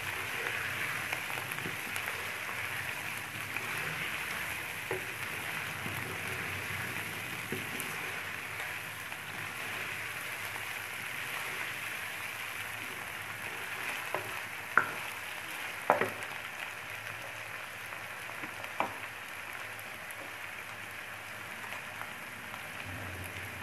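A tomato and green chillies are stirred into garlic and onion frying in a pan, giving a soft, steady sizzle with a few sharp utensil clicks near the middle.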